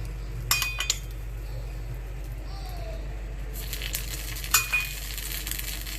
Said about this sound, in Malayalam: ഇനി ഇതിൻ്റെ മേലെ ഞാൻ എണ്ണ ഒഴിക്കുന്നുണ്ട്